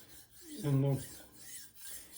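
A powder-metallurgy steel blade rasps across a Japanese natural whetstone in one firm, close stroke, followed by softer, lighter scraping passes.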